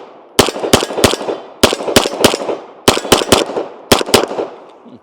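Rapid pistol shots from a Kimber 2K11 Target firing 147 grain ammunition, sharp and loud, in four quick strings of two to four shots each, ringing out briefly between strings.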